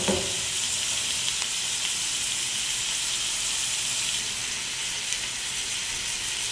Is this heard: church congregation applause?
no